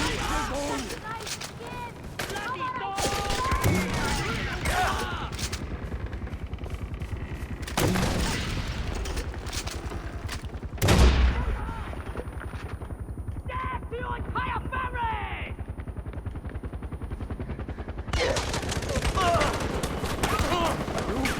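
Repeated firing and explosions from a 40mm grenade launcher at a temple in Far Cry 4, loud booms and bursts over busy gunfire, with a player talking throughout.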